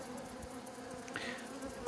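A steady buzz of honey bees at a varroa-infested hive hums throughout, low and continuous, with a brief higher whine rising near the middle.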